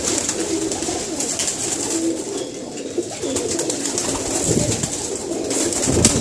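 Pigeon hens, including Teddy, Kamagar and Batera lines, coo steadily inside a loft, several birds calling at once at close range over a dense, continuous background of soft bird noise.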